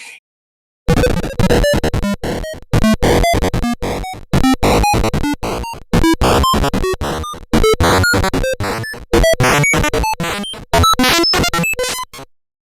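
Fast, choppy electronic tune from the Atari game Adventure racing along at an unnaturally high speed, with dense bursts of notes broken by brief pauses.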